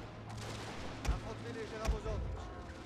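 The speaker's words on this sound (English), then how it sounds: "I'll order the guns then to focus in on that unit" Artillery guns fire on troops in a strategy battle game, two sharp, fairly distant cannon reports about a second apart, set against a low, steady battlefield rumble.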